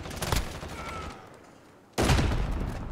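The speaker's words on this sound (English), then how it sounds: "Who's shooting?" Bursts of gunfire from the Call of Duty: Warzone video game, a rapid volley followed by a short lull and then another sustained loud burst of shots.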